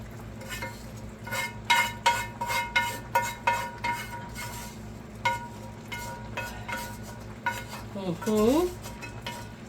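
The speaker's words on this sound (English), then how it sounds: "And then I'm going to stir it, turn it down and stir it." A spoon scrapes and knocks around inside a pot of boiling great northern beans in a steady run of clinks, with a faint simmering hiss underneath and a brief voice near the end.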